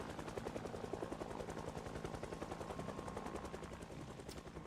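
In the zombie survival game Project Zomboid, a helicopter flies overhead, making a steady, rapid rotor chop that throbs continuously at moderate loudness throughout, with no talking.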